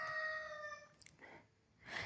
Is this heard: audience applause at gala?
no